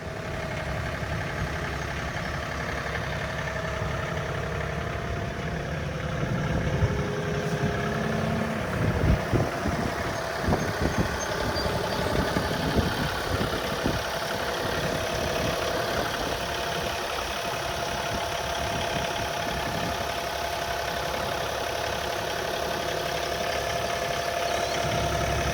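A truck engine idles steadily for the whole stretch, a constant mid-pitched rumble with a rougher, knocking patch partway through; no one speaks.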